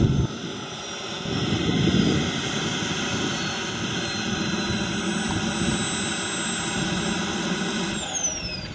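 A CARF MiG-17 turbine-powered RC jet model roars past at an airshow flyby, a loud steady jet whine and rush with a rising-then-falling tone as it passes, no talking.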